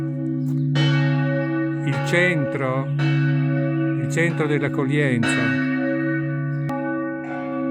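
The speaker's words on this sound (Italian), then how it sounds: "mentre un po' sfuma il suono delle campane" Church bells in Zugliano ring out with sustained resonant tones, struck notes overlapping and gradually fading, while someone talks briefly over them.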